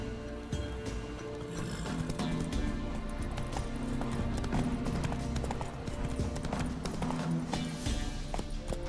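Roach, a horse in The Witcher 3, gallops with a steady rapid clip-clop of hooves, loud and continuous over a busy background of game ambience and music.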